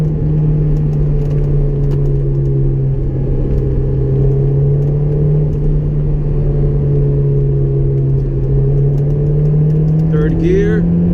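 A Honda S2000 AP1 cruises in third gear at about 4,500 rpm. Its engine drones steadily and loudly from close inside the cabin, a constant even hum with little change, joined by a brief voice near the end.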